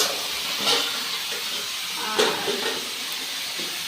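Chicken being fried as kosha in a pan gives a continuous hissing sizzle with a couple of louder bursts of spatter, close and steady, with no voices.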